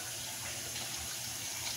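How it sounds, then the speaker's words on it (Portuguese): Tap water runs steadily into a cup at a sink during house cleaning, a close, continuous splashing flow with no talk over it. "Deixa eu pegar um pouquinho de água aqui pra ela."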